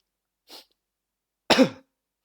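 Two coughs with a pause between them: a short, soft one, then a louder, harsher one about a second later, close to the listener in an otherwise quiet room.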